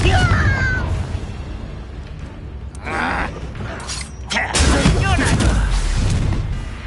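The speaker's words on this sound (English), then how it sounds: "Confringo!" A Confringo blasting spell bursts in Hogwarts Legacy, a loud booming explosion with crackling debris landing in the middle of combat noise and a voice.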